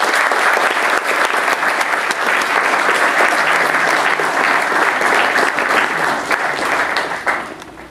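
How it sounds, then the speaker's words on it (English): An audience at a November 2011 SMA meeting gives a sustained round of applause. Many hands clap in a dense, steady wash for about seven seconds before it quickly tapers off, with no voices over it. "let's all give Calvin, Kyle, and Mike a round of applause"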